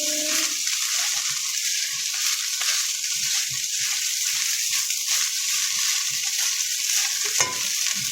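Fried rice being stirred and fried in a pan, with a steady sizzle throughout and soft scraping stirs repeating underneath, fairly close and with no talking.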